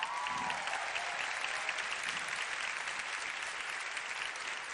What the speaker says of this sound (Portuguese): você pode aplaudir o Senhor pela vida dela?